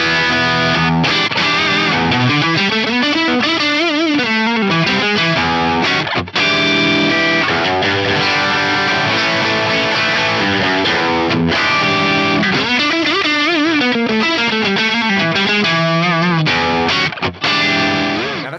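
Fender Stratocaster electric guitar played through a stereo fuzz pedal with large room reverb, moving from bridge to neck pickup; thick, saturated sustained chords and riffs, loud and continuous for the whole stretch with only brief gaps.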